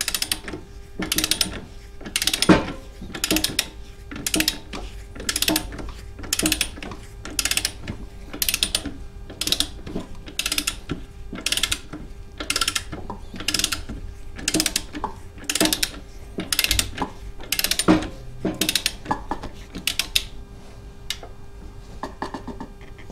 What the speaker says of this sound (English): So this rear axle nut gets tightened to 65 foot-pounds.